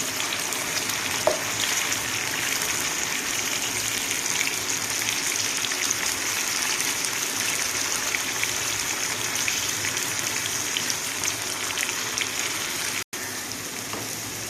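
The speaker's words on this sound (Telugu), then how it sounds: "ఆయిల్ వేడెక్కాక కాకరకాయలు కాకరకాయలు అయితే వేయించుకుందాం అండి క్రిస్పీగా వేయించుకోవాలి" Pieces of bitter gourd fry in hot oil with a steady, dense sizzle that keeps going evenly throughout, loud and close, with no talk over it.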